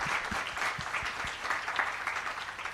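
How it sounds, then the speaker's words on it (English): A festival audience applauds in welcome as a speaker is introduced, steady dense clapping filling the hall throughout with a low murmur beneath. "I will request everyone to please welcome Shiv Rawail with a round of applause."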